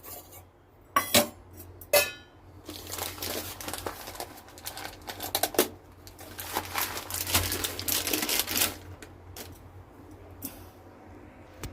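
A sago packet crinkling and a bowl being handled in a home kitchen, with close rustling, crumpling and occasional light clinks and taps scattered irregularly, moderately loud with no talking.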